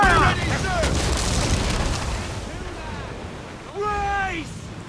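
Ship cannons firing in Assassin's Creed IV Black Flag, loud booming blasts at sea over wind and surf, with crew voices shouting commands between the shots.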